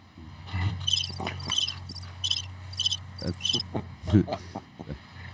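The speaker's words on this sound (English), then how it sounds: "Crickets." Loud, steady cricket chirping in rapid pulsed bursts that repeat about every half second, close and continuous over a low hum, with no voices.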